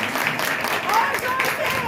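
Audience clapping at a foundation's competition and felicitation programme, a continuous wash of applause from a crowd, with voices heard over it.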